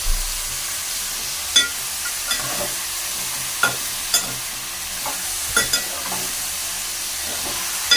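Washed chicken pieces being stirred in a pan for a spicy curry, with a low steady sizzle and a series of sharp scraping knocks from the spoon spread through the stretch, close by and with no talking.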